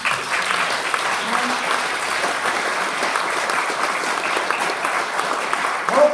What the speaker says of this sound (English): Give Aubrey a warm applause